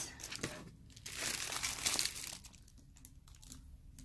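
Plastic poly envelopes crinkling and rustling close up, a continuous crackle that swells and fades over a few seconds.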